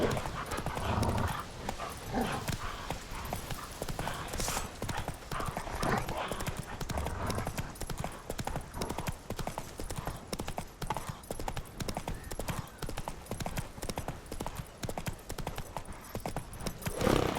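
Hooves of Roach, a horse in The Witcher 3 video game, clip-clop in a quick, steady galloping rhythm throughout, loud and close, with a dense layer of game ambience underneath.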